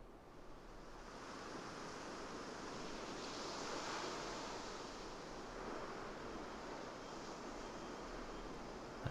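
Seaside ambience from the video game Carto: steady ocean surf washing continuously with a soft airy hiss, a broad even wash of waves that holds at moderate level throughout with no voices.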